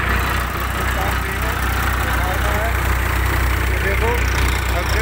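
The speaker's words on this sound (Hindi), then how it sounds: "धुआंधार मशीन चल रही है, ट्रैक्टर की कोई आवाज़ नहीं आ रही, सदाई स्लो चल रहा है, गजब चल रहा है।" A multicrop thresher runs at B.M Jaipur, Rajasthan, giving a steady, droning mechanical hum with a low, even throb, while someone talks over it throughout.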